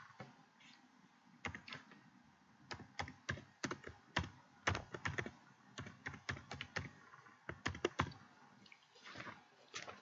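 Text is typed on a computer keyboard in rapid irregular bursts of sharp, close key clicks, with short pauses between runs and no talking.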